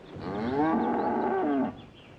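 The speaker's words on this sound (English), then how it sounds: "Won't you listen to that cow now?" A cow named Bessie lets out one long, loud, steady moo lasting well over a second, close by with no voices over it.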